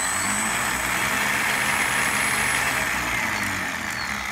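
A combat robot's drum weapon, heavily weighted with epoxy to correct poor balance, spins up with a steady, loud, continuous whirring hum and a high whine held throughout, with no talk.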